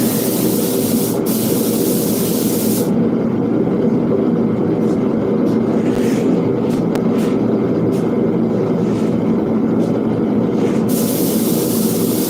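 Spray painting a first coat, a steady loud broadband hiss of spray running continuously throughout with no pauses and no voices.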